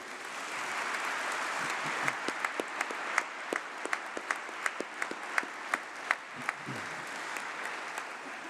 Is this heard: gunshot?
no